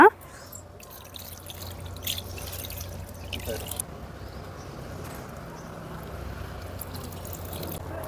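Water pours steadily onto potted plants, a soft continuous splashing stream that stays fairly quiet from start to finish.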